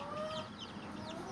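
Chickens cluck and chatter at a chicken farm, several birds calling faintly in the background over a steady ambient hum.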